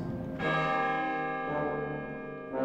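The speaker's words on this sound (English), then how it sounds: "we present the piece to you now with the powerful bells that Berlioz had in mind in the last movement" Heavy orchestral bells from the finale of Berlioz's Symphonie fantastique toll with rich, ringing overtones, two strong strikes sustaining and decaying, loud and alone.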